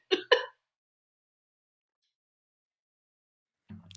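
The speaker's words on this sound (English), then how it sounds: "excuse me, I think I'm going to cough" Two quick throat-clearing coughs close by at the start, then silence, with a faint low rumble near the end.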